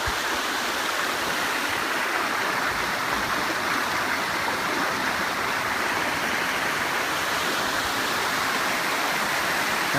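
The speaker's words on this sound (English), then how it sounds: "I heard water running." A stream runs steadily along a lakeshore trail, a constant, full rush of water that stays the same the whole time with no voices.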